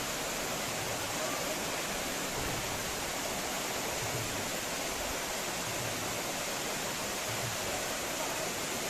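Dasingbadi waterfall in Odisha gives a steady, dense broadband rush of falling water, continuous and fairly even throughout with no clear voices on top.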